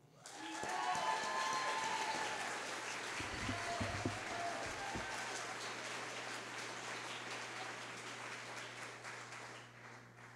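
An audience claps to welcome speaker Tony Kroeger at a Pecha Kucha Dayton event. The applause is sustained and even for about ten seconds, a dense patter from a crowd indoors, with faint voices underneath, before it fades slightly at the end.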